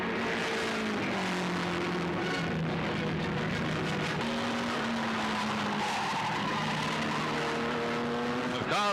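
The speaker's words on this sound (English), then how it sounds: "With cars flashing around like this" Race cars on a road circuit on an island in the Stirling Moss era, engines whining and rising in pitch as several cars rush past one after another, loud and continuous, with tire squeal and a narrator talking over them.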